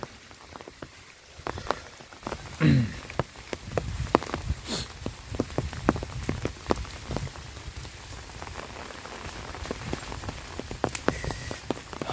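Rain falling steadily on surfaces outdoors on a rainy day in rural Thailand, dense patter of drops with sharper close splats scattered throughout, moderately loud and continuous.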